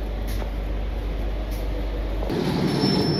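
The Puri–Sealdah Special train pulls out of Bhadrak station with a steady low rumble that swells as it gets under way, a faint squeal rising near the end.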